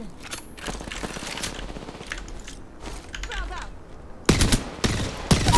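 Bursts of automatic weapon fire in the Apex Legends battle royale game, rattling in short volleys at moderate level and then turning louder and closer toward the end, with players' voices mixed in.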